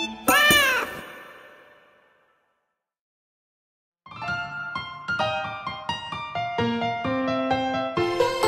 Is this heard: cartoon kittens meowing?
yes